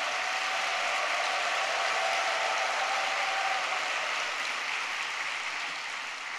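Congregation applause at a church conference gathering, a continuous even roar of many hands clapping that sustains without breaks and tapers slightly near the end, no talking over it.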